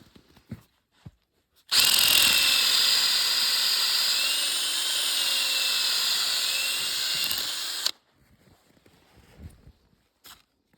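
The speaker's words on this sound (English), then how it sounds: "it's time to dig a hole in the trunk" A power drill whines loudly for about six seconds as it bores a tapping hole into a maple tree trunk, its pitch wavering slightly, with faint rustling and footsteps before and after.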